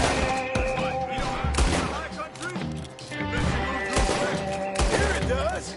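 Bursts of gunfire crack and boom in Red Dead Redemption 2, a dense loud volley of shots and impacts mixed with in-game voices.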